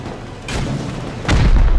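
Gunfire in the game Rust during a fight at a heavily fortified base by the quarry, with two heavy booming shots about a second apart, the second louder and followed by a sustained rumble.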